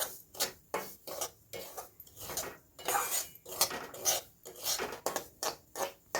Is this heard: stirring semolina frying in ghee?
yes